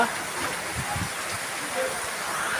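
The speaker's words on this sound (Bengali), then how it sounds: "এই যে বৃষ্টির অবস্থা।" Steady rain falling on a cool day, a continuous broadband wash of drops at moderate level with no clear talk over it.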